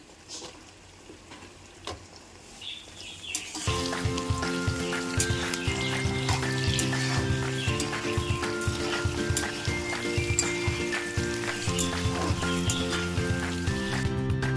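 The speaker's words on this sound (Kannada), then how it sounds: "ಇದೆಲ್ಲ ಚೆನ್ನಾಗಿ ಎಣ್ಣೆಯಲ್ಲಿ ಸುತ್ತಿರೋದಾಗಿದೆ" Peas, carrot, mushroom and fenugreek leaves fry in oil for a spinach pea pulao, giving a steady, close sizzle that picks up after a few seconds and continues over a constant tonal background.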